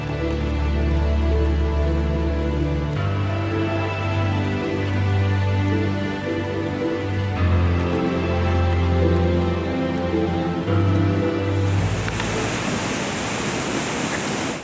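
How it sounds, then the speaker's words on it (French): Steady rain falling in the Siberian mountains, a continuous dense hiss of drops with a low rumbling undertone, even and unbroken throughout, with no voices. "Voilà plusieurs jours que la pluie est de la partie."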